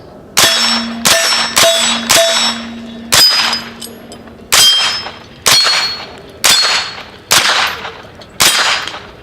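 Pistol shots ring off steel targets, ten sharp cracks at an irregular pace, each followed by a bright metallic clang that decays for a moment before the next.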